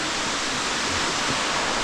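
Constant, dense rush of falling water at Elephant Falls in Meghalaya, the first of three tiers. The roar is heard up close as an even hiss with no pauses.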